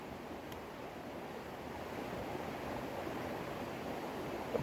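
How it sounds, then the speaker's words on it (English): A babbling brook in fall woodland during a hike in New Hampshire's mountains, heard as a steady, broad rushing wash of water, moderately distant and even throughout, with no talking. "There's a babbling brook right there."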